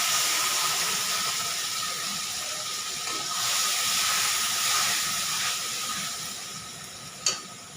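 Spice paste for a kofta curry hits a hot pan with fried potatoes, giving off a continuous broad sizzle and hiss that swells midway and ends with a brief sharp clack.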